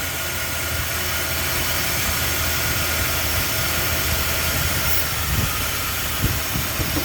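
A 1976 Newport's engine runs for the first time in eight years, a steady, rough, loud rumble and hiss holding constant throughout with no talk.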